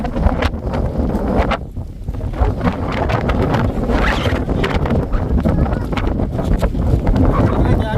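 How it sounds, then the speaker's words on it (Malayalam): Strong wind buffets the microphone throughout at a wind farm in Idukki, a constant loud rumble and roar with some faint voices underneath. "നല്ല കാറ്റാ"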